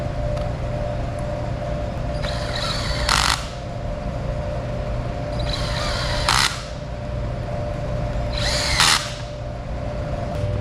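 Power drill driving small set screws into a Selden torsion line for a Code Zero sail, a steady close whirr with three brief louder bursts spaced a few seconds apart.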